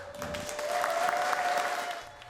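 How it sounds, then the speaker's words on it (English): Applause outdoors outside City Hall greeting a former fire department chief, a brief, moderate round of clapping from a crowd, swelling slightly and fading near the end, with a faint steady tone running beneath. "Former LAFD Chief Kristen Crowley was greeted by applause outside City Hall"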